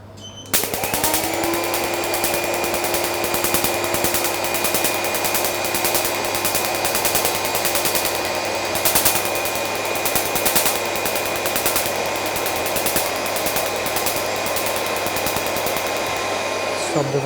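A Q-switched laser rapidly pulses over carbon-powder-coated skin during a pigmentation treatment, a dense rapid crackling rattle over the steady whine of a suction vacuum, loud and continuous with no talking.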